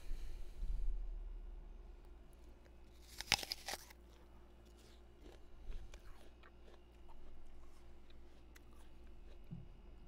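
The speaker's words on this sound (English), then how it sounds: "Crunchy apple ASMR." A crisp crunching bite into a crisp apple, then quiet chewing with small wet crunches over a low steady hum.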